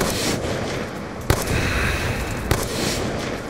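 Gunfire in Call of Duty Black Ops 2 zombies mode: two sharp, isolated shots about a second apart cut through a dense, noisy game background, with no talk over them.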